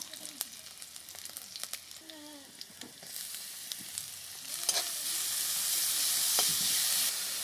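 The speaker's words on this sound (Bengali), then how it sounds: "হালকা করে ভেজে তারপর দিয়ে দেবো গ্রেট করে রাখা বাঁধাকপি" Grated cabbage frying in a pan with chopped ginger, a soft sizzle that grows into a loud, steady hiss, with a few clinks of stirring early on.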